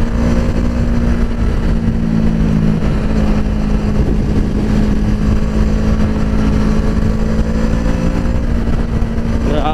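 An FKM Falcon X400 motorcycle cruising on an expressway, its engine droning loud and steady throughout, with a sustained tone and continuous wind rush and no let-up.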